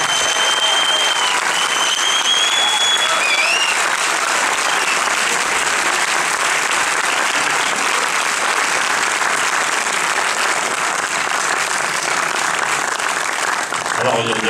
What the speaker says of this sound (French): messieurs, faites un maximum d'applaudissements pour Régal Bougueraba, s'il vous plaît.